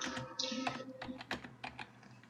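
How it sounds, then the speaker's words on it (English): Fingers type on a computer keyboard in a rapid, uneven patter of close, light clicks, with a faint tonal sound briefly in the background. "she's typing how do I feel about Coach E. Phil."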